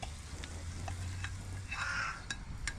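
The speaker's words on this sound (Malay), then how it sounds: "Ni, ikan masin ni. Sinilah abang goreng." Salted fish frying in a pan, a quiet ongoing sizzle with a brief louder burst of spitting oil and a few light scrapes of stirring, heard alone.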